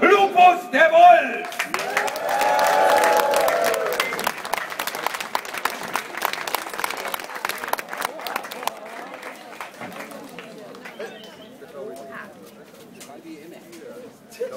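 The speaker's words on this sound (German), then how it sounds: "Zum Grüße mit den finalen Jubel, Handgeklappe und Juhu-Geschrei" A crowd at a historical festival in Stralsund cheers, claps and shouts in a greeting, rising from voices into a burst of dense clapping that thins out over several seconds, with talk and birds cooing around it.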